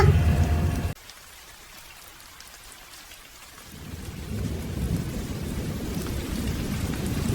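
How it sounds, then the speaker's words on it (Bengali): Heavy rain pours in a dense hiss while thunder rumbles low, the storm dipping briefly before swelling back loud. "বাইরে তখন প্রচণ্ড ঝড় বৃষ্টি বইছে।"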